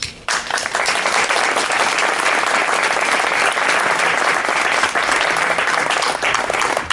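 An audience at a memorial tribute event breaks into loud, sustained applause that fills the room continuously for several seconds, dense and even throughout.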